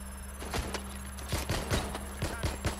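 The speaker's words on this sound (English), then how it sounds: "Gunfire! Now!" Rapid bursts of gunfire in the video game Watch Dogs: Legion, several sharp shots in quick clusters over a steady electronic hum, with faint voices in the background.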